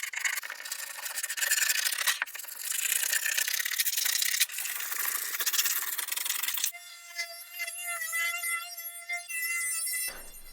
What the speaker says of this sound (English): I'm gonna do some scraping.